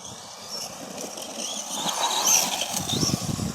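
A Traxxas Stampede 4x4 BLX 3s brushless RC monster truck runs outdoors, a thin electric whine rising and falling with throttle over gritty tire and ground noise, moderately close and building toward the end.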